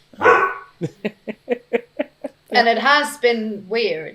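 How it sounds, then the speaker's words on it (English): Dogs bark in the background, a run of about seven short evenly spaced barks, then a person speaks over the tail end. "If you hear barking, it's my dogs."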